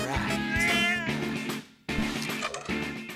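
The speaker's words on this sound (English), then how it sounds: "Listen to her meow, she sounds so pained." A video game cat from No More Heroes 2 lets out drawn-out, pained meows in two bursts split by a short silence, with a voice talking alongside.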